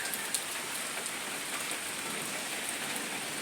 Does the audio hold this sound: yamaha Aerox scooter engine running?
no